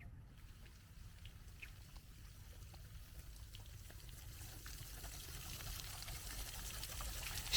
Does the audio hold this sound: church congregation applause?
no